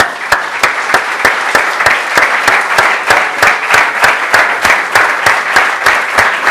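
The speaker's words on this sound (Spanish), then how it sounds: "Démosle un aplauso al Señor, hermano" Congregation clapping in rhythm at a church service, loud and near, with sharp evenly spaced beats about three per second carrying on steadily throughout.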